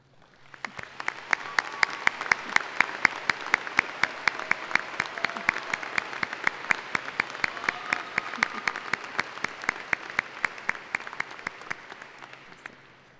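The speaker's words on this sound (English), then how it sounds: "and accept a round of applause" Steady applause from a large arena crowd for graduating high school students honored at a commencement ceremony, rising quickly and holding even and fairly distant for over ten seconds.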